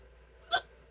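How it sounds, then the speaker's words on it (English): One sharp, close hiccup pops out briefly against a quiet background. "Randomly getting hiccups is related to karma in some cultures"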